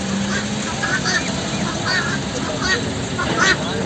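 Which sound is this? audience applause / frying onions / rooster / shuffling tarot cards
rooster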